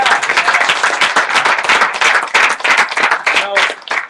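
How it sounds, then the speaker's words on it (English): A business training audience breaks into loud, dense applause to welcome first-time attendees, sustained clapping close by with a few brief voices mixed in toward the end. "We'll give you a round of applause."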